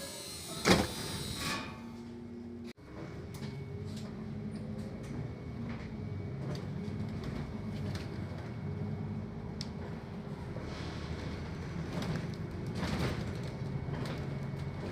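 A biogas-powered city bus pulls away from the Grand-Soir depot, with a door mechanism at the start followed by a steady engine hum and interior rattles heard from on board.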